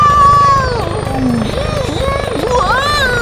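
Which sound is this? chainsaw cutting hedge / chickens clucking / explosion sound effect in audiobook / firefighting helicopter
firefighting helicopter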